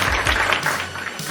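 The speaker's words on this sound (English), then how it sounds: "round of applause, ladies and gentlemen, for Crossman Wrestling" Studio audience or hosts applauding on a wrestling podcast, a brief burst of dense clapping that starts strong and thins out over a second or so.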